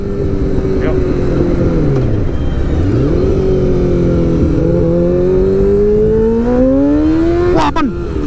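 A first-generation Yamaha R6 sport bike accelerates hard on a test ride, its loud, high engine note climbing through the revs, dipping briefly at gear changes, then surging again over steady wind rush.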